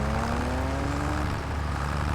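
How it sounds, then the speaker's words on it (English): A racing car in Farming Simulator 25 drones past as a steady engine whine that slowly drops in pitch as it goes by, alone with no talk. "racer car noises are a little bit weird"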